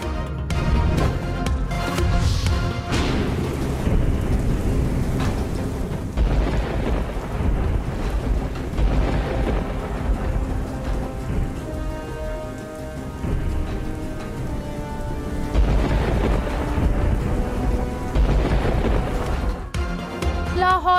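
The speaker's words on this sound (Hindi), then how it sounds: "लाहौर को तारीखी बारिश ने डुबो दिया" Heavy monsoon rain pours continuously over Lahore during a thunderstorm, a dense loud roar with deep rumbles of thunder swelling and fading throughout.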